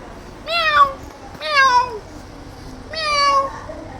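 A cat meows three times, clear and close, with short pauses between each cry over a quiet background.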